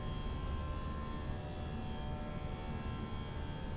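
An aircraft engine in Microsoft Flight Simulator 2024 drones steadily during a climb after takeoff, a continuous, moderately loud hum with steady tonal lines and no talking.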